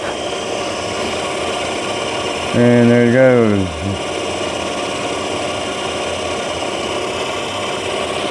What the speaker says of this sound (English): this mic is picking up a lot of this lathe noise, the motor noise and gear noises